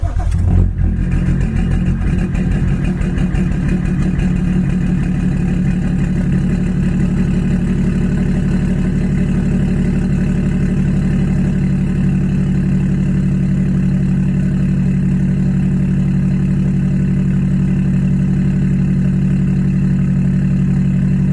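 A BMW E60 engine idling steadily, a loud, even low rumble that holds constant for the whole stretch after a brief rev at the start.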